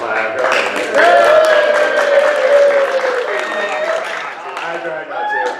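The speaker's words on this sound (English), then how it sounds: "you guys can clap" Audience at a tabletop gaming tournament claps steadily for a door prize winner, a dense round of applause holding for several seconds before tapering, with a few voices over it.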